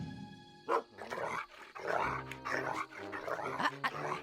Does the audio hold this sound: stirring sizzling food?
no